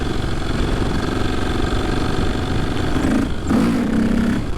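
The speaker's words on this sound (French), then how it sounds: "Je me mets en 3." KTM 450 EXC supermoto single-cylinder motorcycle, a 2003 model updated to 2011 spec, running hard in third gear, a loud, close, continuous engine drone with a brief dip and a rise in revs near the end.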